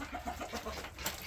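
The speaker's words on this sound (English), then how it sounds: "So those are roosters right there." Several roosters cluck softly on a farm among chickens, ducks and guinea fowl, a brief run of quiet, nearby clucks at low volume.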